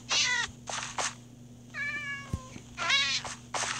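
Repeated meows from a Minecraft cat: several short, close calls in an uneven rhythm, with one longer wavering meow in the middle, over a low steady game hum and no talk.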